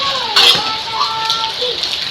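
Dense, steady rain hisses loudly throughout, with a faint voice and a few clatters in the background.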